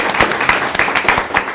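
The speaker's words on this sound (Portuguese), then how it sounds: "uma salva de palmas ao nosso palestrante da noite" A seminar audience gives the evening's speaker a short round of applause, distinct hand claps landing in a loose, fairly even rhythm, moderately close and without talk.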